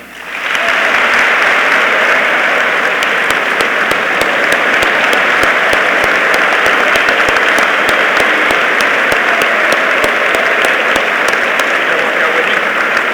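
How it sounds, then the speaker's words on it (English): An audience gives a loud, full round of applause for Secretary Mike Pompeo at the close of a Greater Issues event, thick continuous clapping with sharp individual claps standing out, rising quickly and staying strong throughout. "Please join me in one more round of applause for Secretary Pompeo"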